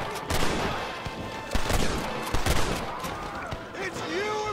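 A volley of gunfire in Red Dead Redemption during a riverbank shootout, with repeated loud shots clustered in bursts and shouting voices mixed in.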